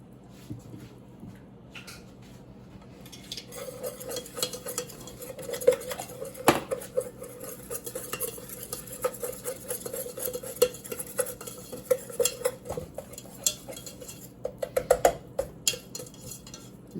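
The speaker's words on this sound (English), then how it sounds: "I'm going to get that all stirred up" A utensil scrapes and clinks against a pan in irregular stirring strokes while making red enchilada sauce with oil, close and fairly quiet, with occasional sharper knocks and no talking.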